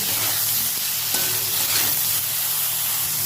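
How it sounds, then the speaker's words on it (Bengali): Brinjal pieces seasoned with salt and a little turmeric fry in hot oil in a pan, giving a steady close-up sizzle with a few faint stirring scrapes and no voices. "বেগুনটা ভালো করে আগে ভেজে নেবো"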